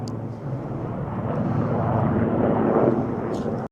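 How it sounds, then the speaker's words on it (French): A helicopter circles low over a house, giving a steady, loud rotor and engine rumble that continues throughout without a break, mixed with some wind noise near the microphone. "J'ai un hélicoptère qui arrête pas de tourner."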